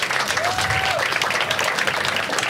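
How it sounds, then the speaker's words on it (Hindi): An audience at a stand-up comedy show applauds steadily and fairly loudly, a dense wash of clapping through the short stretch with faint crowd noise. "और एक बार सब लोग अपने आप के लिए ताली बजा दो।"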